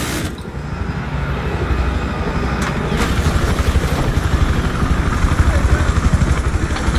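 An enemy helicopter in the video game Battlefield drones steadily and loudly, its rotor and engine noise swelling slightly and pulsing throughout.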